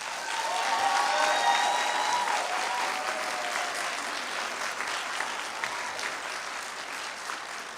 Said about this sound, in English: invite all the graduates to say thank you to their family members by giving them a round of applause